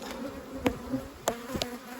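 Steady insect buzzing from bees, with a few brief louder passes close by, alone without voices.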